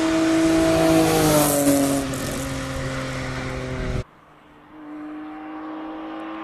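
An E46 BMW 328 race car at a classic car speed event in Cape Town, its engine droning loudly with a rising, shifting tone that cuts off abruptly, then a quieter idling hum remains.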